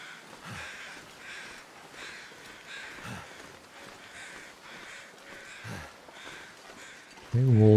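Crows in The Long Dark give several distant, well-spaced caws over a quiet snowy ambience, then a sudden louder sound cuts in at the end.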